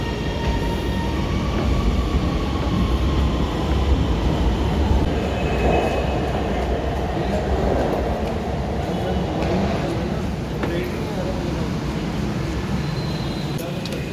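A Lahore Orange Line metro train runs at Ali Town station with a steady, loud rumble of wheels and carriage noise and some faint squeals, while a person speaks over it.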